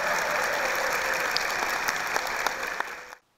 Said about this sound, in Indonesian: Kita berikan aplaus sekali lagi untuk Moreno